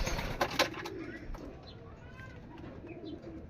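Racing pigeons feed at the loft, giving soft, scattered coos and faint chirps as they peck. A few sharper sounds come near the start, then quieter calls follow over low background hiss.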